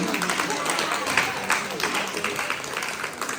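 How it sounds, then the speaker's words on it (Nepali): An audience at a Gurung family's 18th birthday celebration in Pokhara claps steadily in a dense, continuous round of applause, with a voice speaking over it. "ल मजाले गडगड ताली चाहिँ बजाइदिनु होला।"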